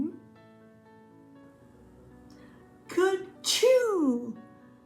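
A voice imitates a loud sneeze, a short intake followed by two sharp bursts, the second longer and louder, standing alone after a quiet moment.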